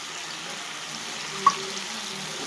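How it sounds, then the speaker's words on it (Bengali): A paste of ginger, garlic, onion, cumin and green chili sizzles steadily in a hot pan, with one brief clink partway through and no talking. "এরপর দিয়ে দেব যে পেস্টটা বানিয়ে রেখেছিলাম, আদা, রসুন, পেঁয়াজ, জিরে, কাঁচা লঙ্কা দিয়ে দিলাম।"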